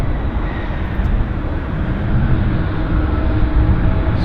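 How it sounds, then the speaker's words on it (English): An Air Canada Boeing 787 Dreamliner pulls off the gate at Vancouver airport, its engines making a steady, loud broadband roar with deep rumble that holds throughout and no talk. "We've got an Air Canada 787 pulling off"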